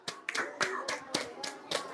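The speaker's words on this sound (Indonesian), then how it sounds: "Tepuk tangan untuk kelompok 4" A short burst of hand clapping from a small group of students in a classroom, uneven claps close by over a couple of seconds.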